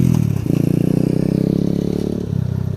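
A 2019 Apollo 250cc dirt bike engine riding close by, with a steady loud throbbing drone, a brief dip and change in pitch near the start and again toward the end.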